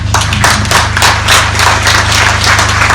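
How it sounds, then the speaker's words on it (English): An audience at a charity's annual general meeting breaks into applause, dense clapping from many hands that stays steady and full for the whole stretch, close and loud. "that's worth a round of applause"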